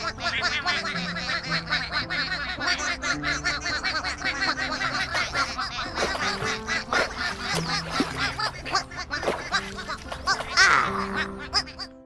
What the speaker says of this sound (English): Big Blue made sure that all 12 ducklings found the pond